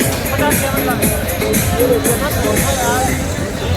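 A dense crowd of devotees mills about at the Khatu Shyam temple in Ringas, with a steady, close hubbub of overlapping voices and no single speaker standing out.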